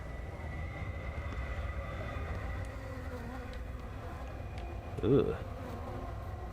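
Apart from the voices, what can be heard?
flies buzzing in video game Everybody's Gone to the Rapture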